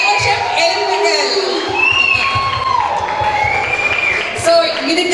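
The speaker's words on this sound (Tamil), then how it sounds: "கரகோஷம் எழுப்புங்கள்." A festival crowd at a Pongal celebration of a Tamil gathering in Egypt cheers loudly, with shouts, whoops and children's voices over steady clapping, sustained throughout and close to the listener.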